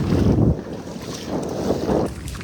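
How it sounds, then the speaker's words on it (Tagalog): Strong wind gusting and buffeting the microphone at a river crossing during a fishing outing, a loud low roar that surges at the start and again near the end, with water and boat noise faintly underneath. "Lumakas na yung hangin mga master."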